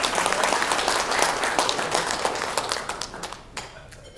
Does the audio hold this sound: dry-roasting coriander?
no